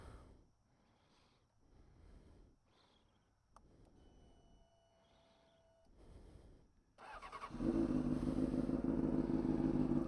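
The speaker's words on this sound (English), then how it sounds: "So let's do a little startup of the bike." A Honda CBR600RR sport bike with an aftermarket fuel pump starts up after several seconds of quiet handling sounds, its engine catching into a loud, steady idle that holds close by to the end.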